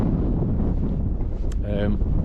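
Strong wind buffets a tent at a summit wild camp near a cliff edge, roaring with a heavy, low rumble against the microphone, and a short voiced sound cuts through near the end.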